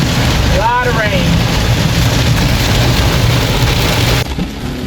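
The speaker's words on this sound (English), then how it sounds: "A lot of rain." Heavy rain pours steadily at a South African campsite, a loud constant roar that drums on a car, with a brief whistle-like sound near the start and a drop in intensity toward the end.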